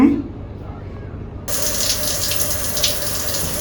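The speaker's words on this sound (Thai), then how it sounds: "ทิศทางของน้ำที่พุ่งออกมาก็สามารถปรับได้ด้วยปุ่มนี้นะคะ" Water sprays from a resort shower head at a beachfront resort in Cha-Am, starting abruptly after a quiet moment and continuing as a steady, close, bright hiss to the end.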